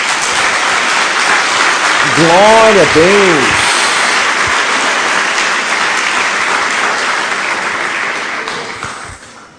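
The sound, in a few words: church congregation applause for Jesus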